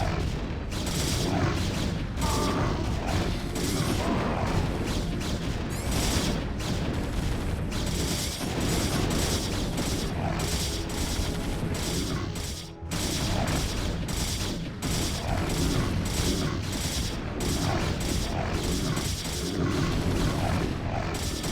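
Weapons fire and explosions in the video game StarCraft: Brood War: dense, continuous volleys of rapid shots and booms with mechanical clatter, loud and busy throughout, with a brief dip midway.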